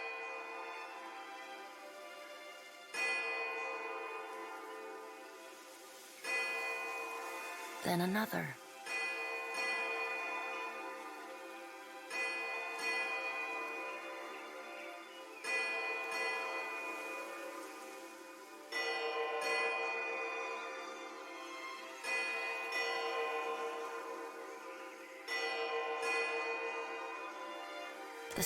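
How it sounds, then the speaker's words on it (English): A single large bell in the game Pillars of Eternity II: Deadfire tolls slowly and steadily, each strike ringing out and decaying before the next, over a faint ambient bed, with one brief spoken line. "The tolling of a single bell joins the chorus of birdsong."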